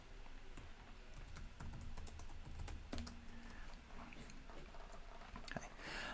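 Fingers tap a computer keyboard in quiet, irregular clicks, faint and close against a steady background hiss, with no clear speech.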